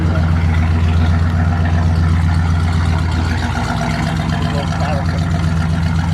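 A restored 1973 Pontiac Grand Am engine runs steadily with a deep, continuous low rumble, fairly loud and close, while people talk over it.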